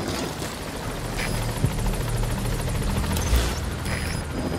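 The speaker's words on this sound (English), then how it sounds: "Support helicopter has arrived." Support helicopter in Metal Gear Solid V touching down at the landing zone, a steady loud rotor drone with low thumping and a couple of heavier boom-like bumps, no talk.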